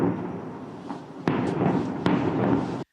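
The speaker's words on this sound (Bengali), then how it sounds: "রাতের আধারে ৩টি ক্ষেপণাস্ত্র হামলার শব্দ শোনা যায়" Missile strike explosions and gunfire at night: continuous rough crackling rumble with two sharp bursts cutting through, loud and fairly close, ending abruptly.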